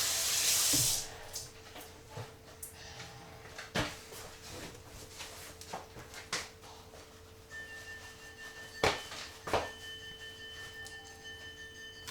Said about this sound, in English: Wash the hands, folks.